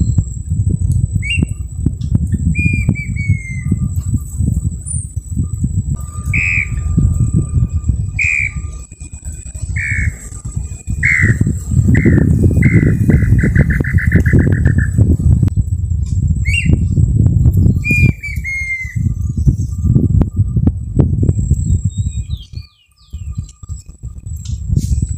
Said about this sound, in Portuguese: tem uma perdiz piando aqui